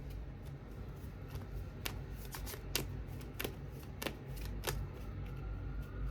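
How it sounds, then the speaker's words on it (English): Tarot cards being shuffled by hand, a steady papery riffle broken by several sharp slaps and flicks of the deck, close and clear with no talking. "Shuffle it up."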